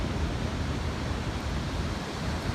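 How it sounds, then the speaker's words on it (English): Ocean surf at Venice Beach around sunset, a continuous loud broadband roar of breaking waves with some wind buffeting, and no voices. "the noise of the ocean is so loud"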